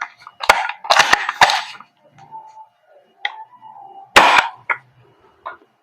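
A suppressed WE AK74 gas blowback airsoft rifle firing a few muffled, sharp shots in irregular bursts with mechanical clacks between them, close by and otherwise quiet.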